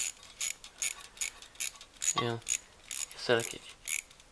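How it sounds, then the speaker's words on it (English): A ratchet with a small socket tightens the transformer bolts on a Dynaco ST70 tube amp kit, giving a steady series of short, crisp clicks about twice a second, close by, with someone speaking briefly in between. "So then we come in with our ratchet with our little socket on it"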